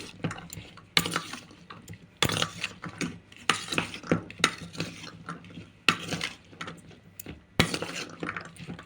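A spoon clatters and scrapes around a bowl of spiced chana, giving a series of sharp, irregular metallic clinks and knocks close up, with no talk.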